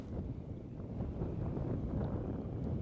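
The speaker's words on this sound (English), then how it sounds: "The wind just suddenly picked up." Wind buffets a microphone out on the water during kayak catfishing, a steady low rumbling roar that swells and eases slightly, with no voices.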